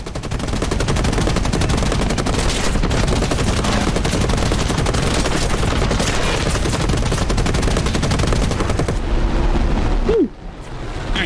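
Aircraft machine guns fire in War Thunder as a loud, sustained, rapid burst that runs for about ten seconds before cutting off abruptly.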